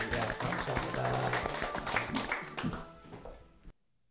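An audience applauds during a Korean church service at the start of a sermon, a dense, steady wash of clapping that holds for several seconds, then fades slightly and stops abruptly.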